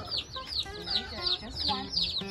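Newly arrived meat bird chicks clucking and chirping close by, a steady run of short repeated calls with light overlapping voices.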